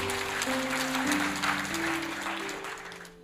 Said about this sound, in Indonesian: Kita beri tepuk tangan untuk kebenaran ini.